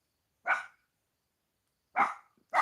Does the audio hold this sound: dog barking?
yes